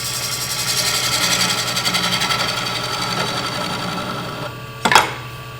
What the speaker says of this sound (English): So I'm using the bowl gouge, 5/8. Getting a cleaner cut.